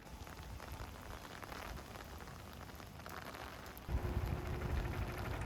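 Steady rain patters on the coastal trekking trail between Oryukdo and Igidae Park in Busan, a constant close hiss with no voices, thickening into a heavier low rush near the end.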